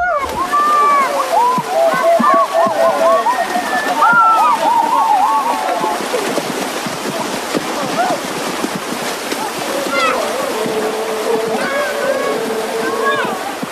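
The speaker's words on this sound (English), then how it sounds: "the men head for a small river on the other side of the village to bathe" Men bathe in a small river beside a village in the Amazon rainforest, with steady splashing and sloshing water close by and bird calls chirping over the top.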